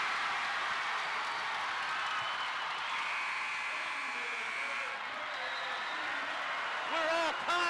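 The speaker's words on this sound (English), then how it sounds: "The crowd's going crazy, I'm telling you." Basketball crowd at a boys' PAC championship game roaring after a game-tying three-pointer with seconds left, a dense, sustained wash of cheering and applause from a packed gym, with a few distinct claps near the end.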